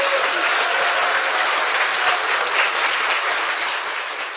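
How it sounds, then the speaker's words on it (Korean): A studio audience breaks into sustained, dense clapping that stays loud and steady throughout, fading slightly at the end, with no clear talk over it. "박수 한번 더 주세요"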